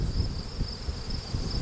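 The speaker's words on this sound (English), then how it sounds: "There's a few bees here." Honey bees buzzing around a nucleus hive during a brood frame transfer, with a steady, faint, close hum and no speech.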